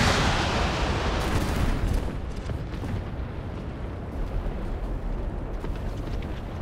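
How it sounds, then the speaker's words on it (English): Bombs dropping and exploding in the War Thunder video game, a loud, sustained roaring blast that rumbles on and slowly fades, dense and continuous, with no talk over it. "Bombs out. 3 bombs."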